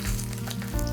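Pork pieces laid skin-down on scallion and ginger in a pot with fermented red bean curd sauce, giving a loud, close, continuous sizzle of frying.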